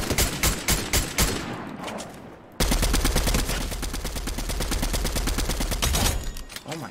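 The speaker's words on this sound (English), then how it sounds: "I'm loving this gun. This is like an AK faster." A fast-firing AK-style rifle with a red-dot sight in Fortnite Chapter 3 fires loud, rapid bursts of close gunshots, then, after a brief gap, a long unbroken stream of rapid fire that tapers at the end.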